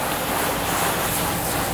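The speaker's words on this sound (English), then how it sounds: "So I'm just gonna rinse it down" A Jeep Trackhawk being rinsed down with heated, softened water during a basic wash to clear salt and road grime, a steady, loud broadband spray hiss running without a break and no voices.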